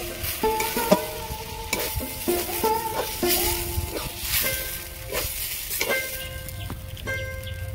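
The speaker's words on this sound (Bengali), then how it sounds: "আবার এইভাবে নাড়তে থাকবো।" Semai vermicelli is stirred in a pan with milk, giving a continuous bubbling sizzle broken by irregular scrapes and taps of the spoon against the pan, close up with no talk.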